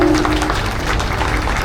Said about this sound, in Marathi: एकदा टाळ्या होऊ द्या.